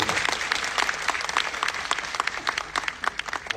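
Audience applause at a live event, a dense, steady patter of many hands clapping with sharp individual claps standing out, close and fairly loud throughout without talk.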